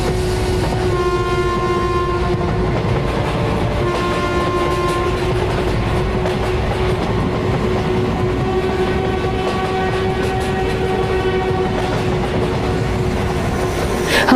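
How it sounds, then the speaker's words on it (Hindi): A train gets under way, its loud, continuous rumble and rattling wheels filling the scene with a steady tonal whine running underneath throughout. "ट्रेन चल पड़ती है।"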